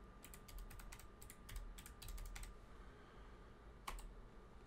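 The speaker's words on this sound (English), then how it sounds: "and then just type in the IP address that was given." Quiet clusters of keystrokes on a computer keyboard as an IP address is entered into an FTP program, tapping in short rapid runs and then a single late click over a low steady hum.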